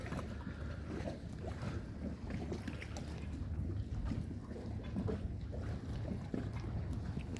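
A boat motor hums steadily close by as the boat moves toward shore, mixed with water splashing and wind buffeting the microphone.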